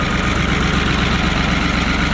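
Old engine idling at cold start, its exhaust manifolds cracked, giving a steady, loud, rough chugging with a ticking, knocking pulse and no talk.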